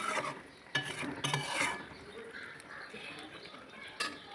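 A spoon scrapes and stirs pointed gourd and shrimp curry in a pan, with a soft sizzle beneath. The scraping comes in a few short bursts close by, and no one speaks.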